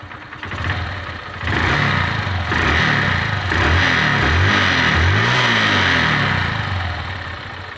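A motorcycle engine idles steadily and smoothly after a timing chain repair, with its revs rising slightly and settling in a continuous close rumble.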